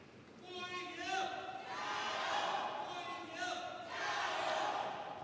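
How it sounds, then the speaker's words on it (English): Spectators at a women's singles table tennis match at the 2017 Australian Open chant and cheer in rhythmic bursts, a loud, rising and falling crowd roar with voices calling out together. "You could hear the crowd"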